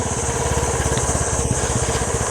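A small motorcycle engine putters with a fast, even beat while riding along a road near a dam, steady and close throughout.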